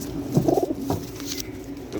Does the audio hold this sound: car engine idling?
no